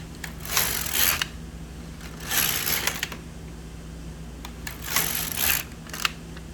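An LK150 knitting machine carriage is pushed across to knit rows, giving three separate bursts of sliding, clicking mechanical clatter with short quiet pauses between the passes.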